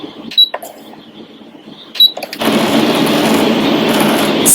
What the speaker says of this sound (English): Use this button, this one right here, to lower my needle and then raise it back up again